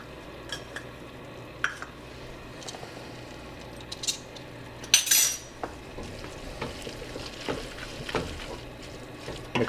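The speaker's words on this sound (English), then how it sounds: "Mix it thoroughly." Browned ground beef stirred in a pot with a spoon, soft scraping and clinks of utensil on metal over a faint, steady sizzle, with a brighter clatter midway.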